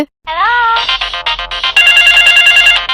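A phone ringtone plays loudly and close, a bright repeating electronic melody with steady tones, no voices.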